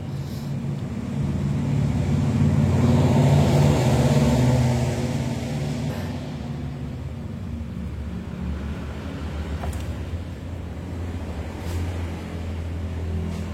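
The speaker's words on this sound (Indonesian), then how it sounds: "lalu kita nyalakan untuk bagian unit motornya, apakah langsam atau stasioner masih tinggi" A Yamaha NMAX scooter engine, an older model showing fault code 61, runs close by with a steady low idle hum that is a little louder at first and then settles. No one speaks.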